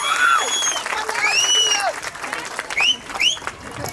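A crowd at a community welcoming event in Chintal, Hyderabad claps steadily for an arriving guest of honour. Rising whistle-like calls and voices cut through the clapping at intervals.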